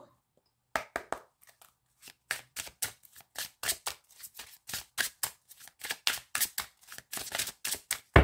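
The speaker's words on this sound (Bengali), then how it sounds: "জাস্ট এটা থেকে আমি দুটো কার্ড নেব।" Tarot cards are shuffled and drawn in a rapid run of crisp, close riffling snaps and flicks that come in quick bursts with short pauses, loud and alone.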